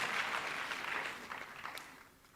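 Audience applause at a memorial lecture, a broad wash of clapping that swells at the start and gradually thins and fades toward the end.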